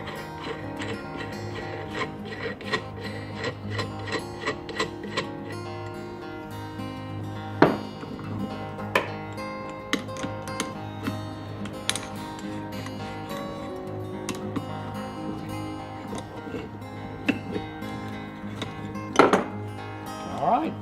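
Quick change tool post on a Smithy Granite 1340 Max lathe having its retaining nut tightened, a run of light metallic ratcheting ticks and clicks with a few heavier thunks over a steady low machine hum.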